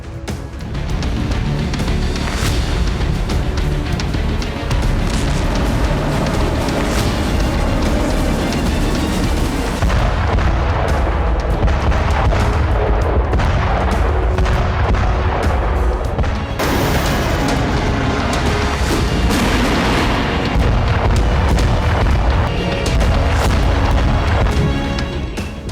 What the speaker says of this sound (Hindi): दिन के उजाले में जोरदार धमाका हुआ और जमीन से आसमान की तरफ काले धुएं का गुब्बार उठने लगा। ये FAB 500 बम का धमाका था।